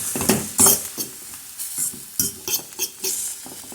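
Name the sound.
stirring and sautéing mini cucumber leaves in a pan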